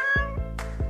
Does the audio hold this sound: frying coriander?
no